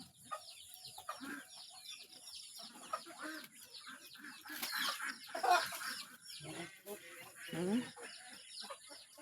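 Ducks on a farm calling with short clucking, quacking notes at close range while eggs are gathered, the bird sounds scattered through steady background chatter of people talking.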